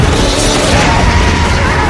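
A loud, dense explosion from the Monster Hunter film, a sustained roaring blast that fills the whole clip without letting up.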